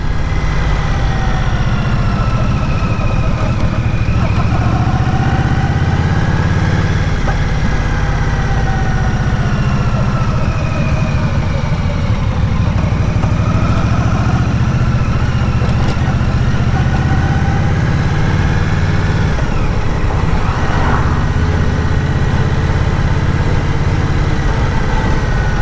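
A 2023 Indian Scout Bobber motorcycle engine idles steadily and loudly throughout, a continuous rumbling throb with slight fluctuations and no voices.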